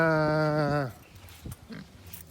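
A Berkshire cross sow in a pen gives one long, loud, nasal grunting squeal, then lets out a few softer snorts and shuffling sounds.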